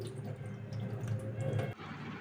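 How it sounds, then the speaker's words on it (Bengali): Water strained off soaked sago trickles and drips steadily for about two seconds, close by, with a low hum underneath, ending in an abrupt stop. "তো জলটা ছেঁকে ফেলে দিই"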